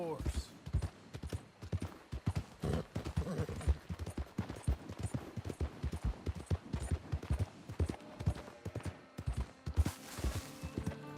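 Horse hooves clip-clop in rhythmic bursts in Red Dead Redemption 2, with the sound of other movement mixed in and a voice talking over it.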